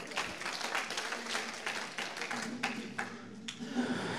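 An audience claps in steady, moderately quiet applause at a lecture, dense patter continuing throughout with some sharper individual claps.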